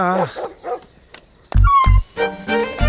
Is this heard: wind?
no